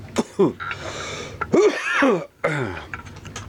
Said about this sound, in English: Sorry, it's a little bit of a cough there